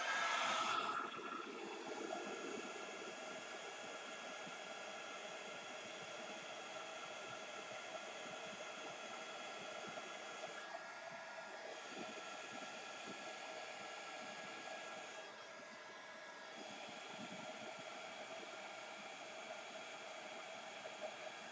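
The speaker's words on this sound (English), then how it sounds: "So what I'm going to do is just put a little my heat tool onto them just to dry them off so that they don't take too long." A craft heat tool blows a steady, loud airy whoosh for a long stretch while drying embossing powder on vellum, with slight dips in tone as it is moved around.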